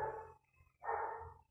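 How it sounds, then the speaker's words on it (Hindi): Two muffled barks from a neighbour's dog a short way off, separated by a brief pause, with no one speaking. "क्योंकि कुत्ता भौंक रहा है"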